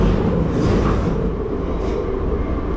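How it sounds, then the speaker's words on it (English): Inside a London train running over rough, rusty tracks: a loud, steady rumbling roar with rattling wheels and faint squeals, no voices. "that's the train coming off the rough tracks."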